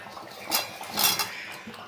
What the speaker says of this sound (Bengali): এই আলুগুলো দিয়ে ভালো করে কষে নেবো